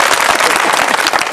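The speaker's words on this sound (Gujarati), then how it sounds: "એના માટે એક વાર જોરદાર તાળી થઈ જાય" Audience applause at a Gujarati comedy show, a dense burst of clapping from a crowd, loud and continuous across the short stretch with no break.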